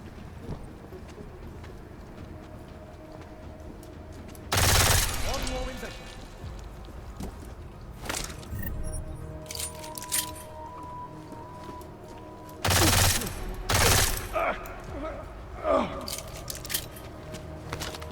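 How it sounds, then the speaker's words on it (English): A full-auto pistol fires in Deus Ex: Mankind Divided in two short bursts of rapid, loud shots several seconds apart, with quieter clicks and game sounds between them. "full auto pistol"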